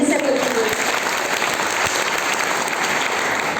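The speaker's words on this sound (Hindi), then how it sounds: "तालियां बहुत धीमे से बजती हैं।" Soft applause from an audience at a stress-relief gathering, a steady wash of gentle clapping that runs continuously at an even level, with some voices mixed in.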